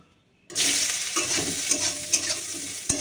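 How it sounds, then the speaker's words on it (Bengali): Brinjal is dropped into hot oil in a wok. After half a second of near silence a loud, hissing sizzle bursts in and keeps crackling steadily, with a few sharper spits and scrapes. "এইবার বেগুনটা ভেজে নেব"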